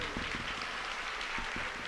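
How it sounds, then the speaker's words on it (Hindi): Audience at a mushaira poetry gathering claps in support of children, a steady wash of applause with a few louder claps standing out, fairly quiet and continuous throughout. "मैं चाहता हूं उन बच्चों के नाम आपकी एक बार तालियां उनके समर्थन में बजे"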